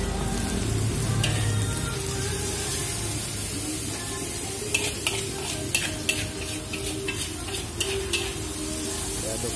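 A spatula scrapes and stirs mie gomak noodles frying in a pan with soy sauce, steady sizzling throughout with a run of sharp clacks against the pan in the second half.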